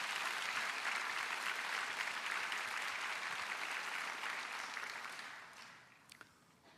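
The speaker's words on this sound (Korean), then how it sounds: "우리 그 하나님 앞에 영광의 박수 한번 올려드립니다." Sustained applause from a church congregation at a prayer service, steady dense clapping that gradually fades and thins out near the end.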